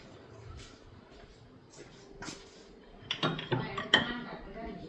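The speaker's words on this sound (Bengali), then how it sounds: "তো ওইদিকে কড়াই বসাই দিচ্ছি, তেল দিয়ে দিচ্ছি, তেলটা গরম হোক।" A metal kadai set down on a home kitchen stove for frying luchi, with scattered clinks and clanks of cookware and utensils rising to a few sharp metallic knocks near the end.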